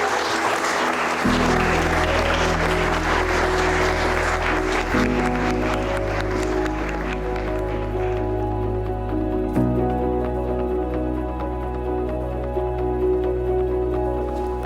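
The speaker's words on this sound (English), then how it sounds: "I think a round of applause is appropriate." Wedding guests at a castle celebration applaud in a sustained, dense burst of many hands, with steady musical chords playing underneath throughout.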